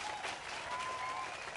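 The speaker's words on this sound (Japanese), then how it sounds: "なんか拍手喝采やねんけど怖い。" Applause and cheering from a crowd in the video game Sherlock Holmes: The Devil's Daughter, a steady dense clatter of clapping heard alone for a moment with a faint tone running beneath.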